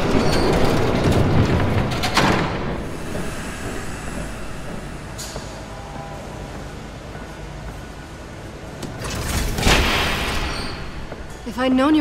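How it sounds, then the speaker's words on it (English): A train rumbles past in the Batman: The Telltale Series game, a loud sustained roar with a rising burst of rushing noise and squealing near the end, while voices talk over it. "There's a train coming."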